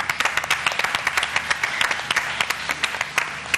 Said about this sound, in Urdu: اس دفعہ تالی بجواؤ پاکستان کے لیے.